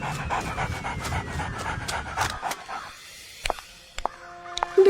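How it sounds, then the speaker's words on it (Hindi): A stray dog in a Hindi children's cartoon pants rapidly and rhythmically, loud and close for about two seconds, then falls quiet apart from a few sharp clicks and a short tone near the end. "तभी अचानक एक आवारा कुत्ता दौड़ता हुआ आया"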